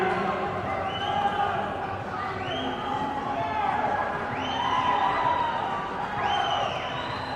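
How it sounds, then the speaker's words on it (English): A swimming championship crowd roars and cheers continuously during a 4x200 relay final at an indoor pool, with rising whoops and shouts swelling over a constant din and a commentator talking throughout. "Plenty of crowd support here from the team in red."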